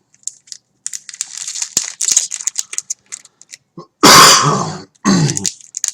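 A man at a table opening card packs coughs hard twice near the end, loud and close, after scattered crinkling and tapping of wrappers and cards.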